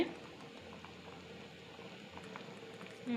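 Rice boiling in a pot on a home stove, a faint steady bubbling and soft patter that holds evenly at low level without talk.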